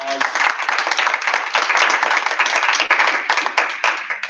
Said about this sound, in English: let's give Travis a big round of applause